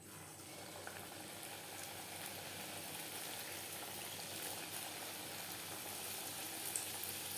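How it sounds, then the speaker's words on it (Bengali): Labong Latika, Bengali sweets, fry in hot refined oil over a medium flame, giving a steady, even sizzle and bubbling hiss that stays close and unbroken, with no voices over it. "মিষ্টিগুলো ভাজবো মিডিয়াম ফ্লেমে"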